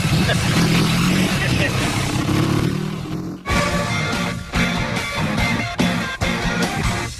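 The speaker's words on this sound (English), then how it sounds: "I haven't heard that engine in 30 years" An old BMW engine, from a busted Beemer under restoration, runs with a loud, steady rumbling drone close by, briefly cutting out and then restarting amid voices talking over it.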